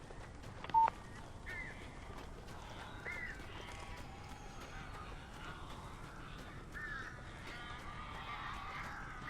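Crows in the Alan Wake video game caw repeatedly over a low, steady ambient background, scattered harsh calls at moderate distance throughout, with no speech.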